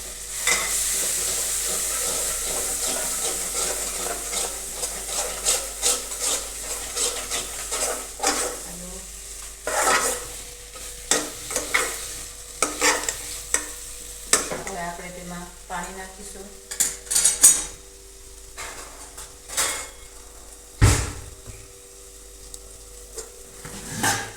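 Maggi noodles stirred with coriander-cumin spice powder in a pan, with a continuous sizzle under repeated scraping and clinking of a spoon against the metal, the strokes coming in irregular bursts at close range.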